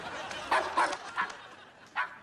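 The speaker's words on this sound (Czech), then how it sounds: "Ty tam máš psa?" A dog barks in a lab setting: four short yipping barks spaced across a couple of seconds, fairly close and clear over a quiet background.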